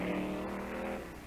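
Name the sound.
1964 Ford Fairlane Thunderbolt drag car, 427 engine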